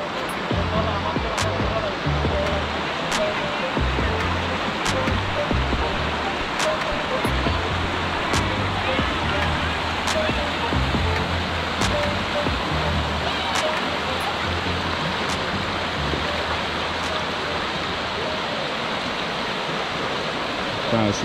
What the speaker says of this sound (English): So this is the Patapsco River.